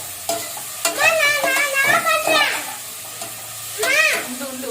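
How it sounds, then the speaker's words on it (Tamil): Onions, carrot and potato sauté in a pan for vegetable biryani, with a ladle scraping and stirring in several quick bursts over a soft sizzle, close and fairly loud. "ஓரளவுக்கு வதங்கி அது சாறு இறங்கினா போதும்."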